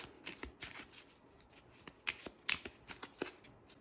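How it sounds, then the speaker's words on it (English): Cards riffled and shuffled in quick bursts of crisp, papery flutters with short pauses between, close by and fairly quiet, no voices. "We will then shuffle the deck up."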